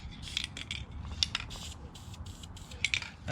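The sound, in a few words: aerosol spray on van step well carpet corners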